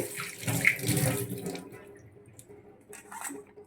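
Running water pours and splashes as grass carp fish pieces are washed under a tap, a close, brief rush that fades into softer trickling and drips.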